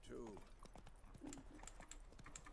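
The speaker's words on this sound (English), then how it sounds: "let's see if we speed up with the horse in the water" Horse hooves clip-clopping in The Witcher 3, a quick, steady rhythm of moderately close hoofbeats with a horse's breathy snort near the start and no talking over it.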